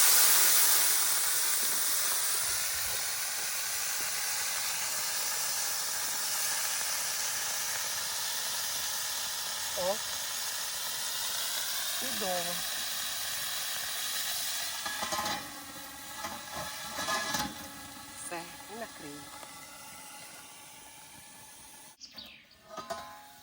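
Potatoes frying in fat in a pan over a campfire in the forest, a steady bright sizzle and hiss lasting throughout, with occasional stirring clatter and faint bird calls in the background.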